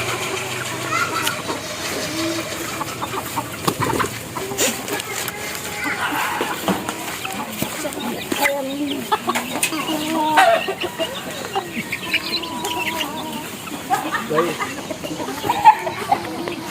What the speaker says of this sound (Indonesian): ini ada ayam-ayam peliharaan daripada Pak Suami